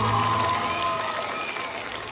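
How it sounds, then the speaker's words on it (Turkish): A crowd at a children's theater musical applauds the performers, with a short, continuous burst of clapping and crowd noise mixed under sustained music or singing. "Kocaman alkışlar kahramanlarımız için geliyor."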